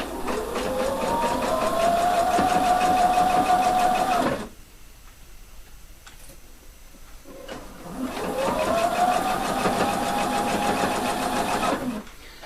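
A sewing machine stitches a seam on a jacket corner with ribbon, 1 centimeter from the edge. It runs in two steady, loud whirring bursts of about four seconds each, split by a short quiet pause.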